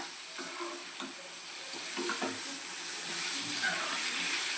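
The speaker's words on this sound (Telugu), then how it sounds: "కర్రీ కాదు, ఇది రొయ్యలు ఫ్రై." Prawns frying with onion in a pan, stirred now and then, a steady sizzle with scraping stir strokes close by, continuous throughout with no talking.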